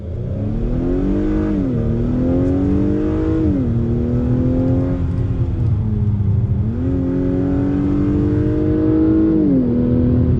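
A 2021 Acura TLX A-Spec engine revs hard at full throttle in sport mode, pitch climbing and dropping through several gear shifts, loud and continuous.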